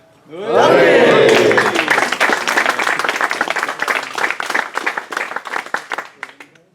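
At a Hobbit tabletop gaming league awards ceremony, a shout and cheering burst out first, then a crowd claps hard and fast before the applause gradually tapers into scattered claps.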